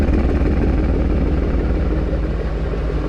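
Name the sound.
2008 Ford Mustang Bullitt idling with FR500S exhaust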